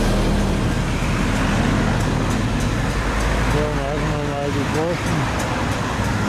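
Large vehicles, including a cement mixer truck, rumble past on a road, a steady loud roar of engines and tyres with someone talking over it nearby.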